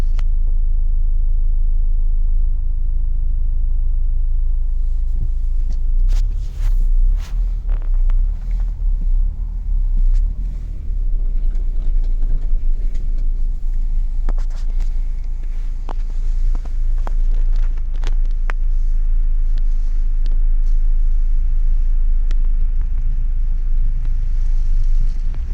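A Mahindra Scorpio N crawls through an off-road obstacle, its engine a steady low rumble throughout with wind buffeting the microphone and occasional knocks and scrapes from the chassis and suspension as it tilts across the uneven ground.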